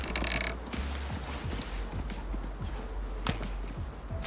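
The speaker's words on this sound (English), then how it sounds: "when the horses spot you, they just go straight for you" Horse hooves in the survival game Icarus, a steady run of clip-clop beats approaching close and fairly loud over a constant ambient rumble, no talking.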